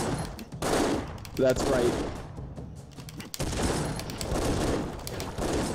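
Rapid machine-gun bursts and explosions from the pixel-art action game Broforce rattle loudly and almost continuously, with a voice briefly speaking over the co-op chaos.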